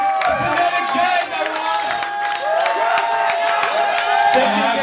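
Audience applause and cheering at a jazz band show in the Berkeley Red Room, loud crowd claps and whoops with sharp hand strikes continuing throughout, close and lively.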